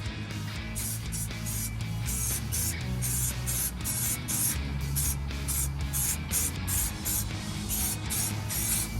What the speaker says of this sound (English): I'm gonna spray paint the axle just to kind of clean it up a bit.